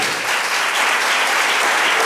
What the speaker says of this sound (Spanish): Denle un aplauso al Señor en esta tarde.